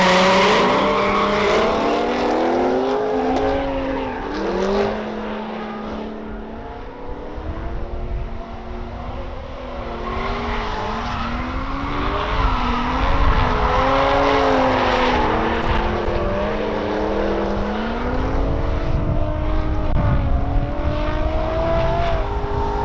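An LS-swapped Mazda Miata race car runs on an oval track, its V8 engine droning loudly as the pitch climbs and falls with each shift and change of throttle.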